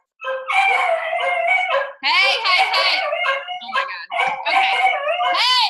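Dogs barking and howling indoors, loud and close in several drawn-out bursts with brief gaps, while a person speaks a few short words over them.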